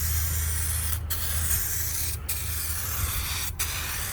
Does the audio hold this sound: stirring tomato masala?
no